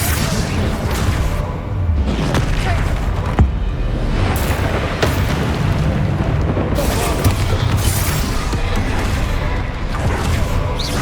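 Booming spell blasts such as Confringo in Hogwarts Legacy, with loud, dense rumbling impacts and whooshing bursts piling up continuously throughout, with no quiet gaps.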